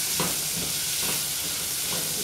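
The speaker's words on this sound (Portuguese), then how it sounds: "Vamos deixar ela fritar um pouco aqui e já volto." Diced calabresa sausage, boiled and skinned beforehand, fries in a pan with a dense, steady sizzle and light crackling, close and continuous, with no talk.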